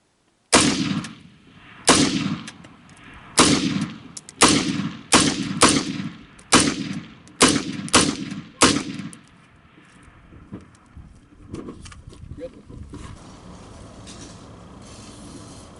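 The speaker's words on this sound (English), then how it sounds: "this is my Su-16A shooting with Tula ammo, 10 rounds, just to show that it's reliable with this ammo" An SU-16A rifle fires ten rounds of Tula ammunition outdoors, sharp loud cracks in a steady, evenly spaced string, each followed by a brief echo, then a quiet stretch with faint handling noise.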